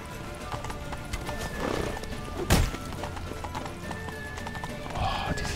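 Hooves clip-clop in a steady gallop while a horse whinnies in The Witcher 3: Wild Hunt, with game-like background sound and a sharp thump midway.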